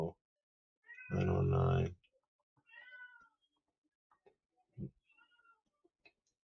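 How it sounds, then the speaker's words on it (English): A pet cat meows once, loud and drawn out, close by in a quiet room, followed by a few softer shorter meows and small sounds, with a voice speaking briefly. "I know y'all can hear my cat."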